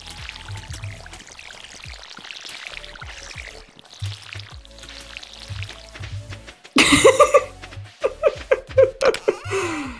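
A watering can pours over a crop in Stardew Valley, with a short splashing pour over quiet game music, followed by louder burst sound effects and laughter.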